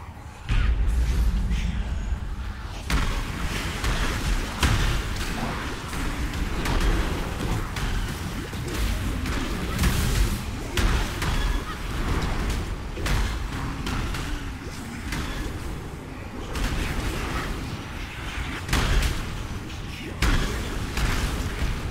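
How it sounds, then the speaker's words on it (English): Repeated booming explosions from the Path of Exile video game during Simulacrum waves, dull thuds and slams layered over continuous combat noise, dense and moderately loud, with someone talking at times. "Don't stand in explosion."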